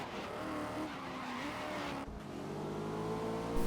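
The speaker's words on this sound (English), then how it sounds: "I hit his front wheel and stay driving forward so that I can impede his ability to turn and pin him to the wall" Racing cars in GRID 2019 grind against each other as one car pins another's front wheel into a wall, engines roaring steadily with tire squeal and skidding, plus a brief impact thud midway, loud and continuous without speech.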